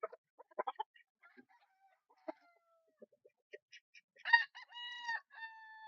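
Scattered clucks from several chickens build to a loud, drawn-out rooster crow near the end, close by and otherwise quiet.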